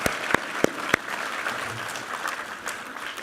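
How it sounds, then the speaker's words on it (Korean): Congregation applause fills a Sunday church service on Christmas Eve, steady moderate clapping from many hands with a few sharp, close claps standing out at the start. "우리 하나님께 감사와 영광의 박수 올려드리겠습니다"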